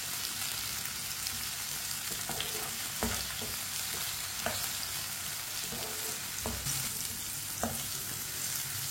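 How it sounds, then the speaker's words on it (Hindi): Chopped tomato and fine-cut green chilies cooking in a pan, a constant bright hissing sizzle with occasional clicks and scrapes of a stirring spoon, moderately quiet and steady throughout. "कटा हुआ टमाटर, 3 सब्ज मिर्च बारीक कटी हुई। 1 मिनट के लिए पका लेंगे।"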